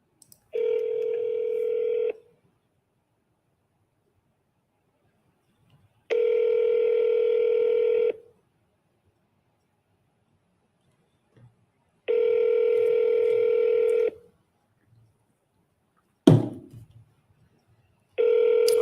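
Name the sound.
phone dialing and ringing, call not answered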